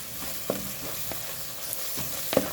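Leafy greens with pepper powder frying in oil while being stirred: a soft continuous sizzle with a few sharp spoon scrapes and taps against the pan, close and quiet.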